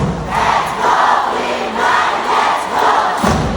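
Spectators at a live indoor volleyball match featuring the Creamline Cool Smashers shout and cheer in loud, rhythmic swells, the roar rising and falling several times in quick succession.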